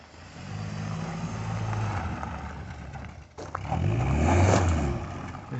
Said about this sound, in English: It just spins tires like mad